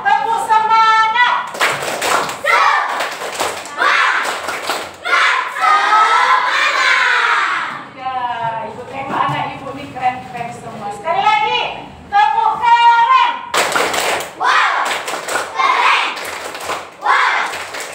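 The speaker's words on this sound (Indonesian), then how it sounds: "yuk kita tunjukkan dengan tepuk semangat" A fourth-grade primary class does a rhythmic spirit-clapping routine, with loud bursts of quick patterned hand claps alternating with children's voices chanting and calling out together, close and lively.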